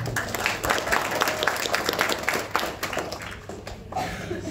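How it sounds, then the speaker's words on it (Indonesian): An audience applauds after a group's gender equality presentation, a steady, dense patter of many hands clapping throughout, fairly close and loud, tapering slightly toward the end. "Give applause, please."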